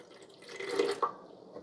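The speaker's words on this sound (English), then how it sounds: "So now as we pour water in," Water poured into the reservoir of a Keurig K-Duo Plus single-serve and 12-cup carafe coffee maker, a soft splashing flow that builds and then tapers off, close by with no talk.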